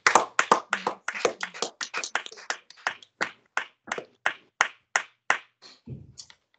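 A church congregation claps in a steady rhythm during a Sunday service, roughly twenty sharp, close hand claps in a row, with a brief low thump near the end and no talking.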